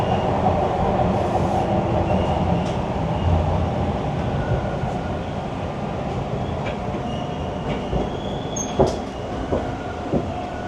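Toronto subway train on Line 1 arriving at Lansdowne Station: a steady, loud rumble of wheels and car noise throughout, with faint rail squeals and clacks near the end.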